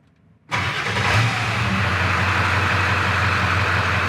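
A 7.3L Power Stroke diesel truck engine cranks and catches after a brief quiet moment, then settles straight into a loud, steady diesel idle that carries on to the end.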